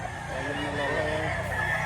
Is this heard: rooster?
yes